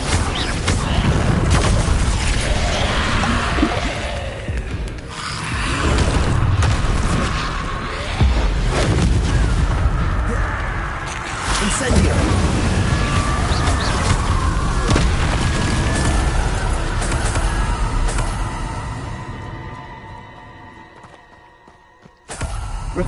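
Spell blasts from Hogwarts Legacy combat, with Confringo and Incendio among them: repeated loud booms and crackling bursts over a dense game soundscape for most of the stretch, thinning out near the end.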